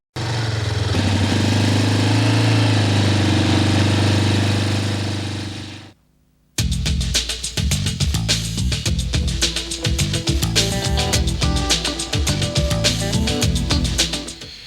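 Yamaha quad ATV engine running with a loud, steady roar, cutting out briefly, then restarting and idling with a rough, uneven chugging rhythm.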